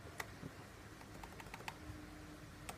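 Key presses on a 12-inch MacBook keyboard make quiet, sparse clicks, several light taps spaced irregularly over a faint background hush.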